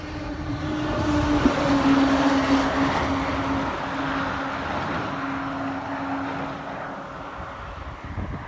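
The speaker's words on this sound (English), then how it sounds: "So here comes a nice big HGV." A large HGV lorry passing on a road beside a loch, a loud, rumbling roar that swells and then gradually fades over several seconds, with a steady droning tone running through it.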